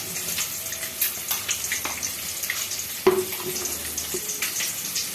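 Spices and eggs fry in a pan for an egg curry, giving a steady close sizzle and crackle with occasional stirring scrapes and clinks, and no talking.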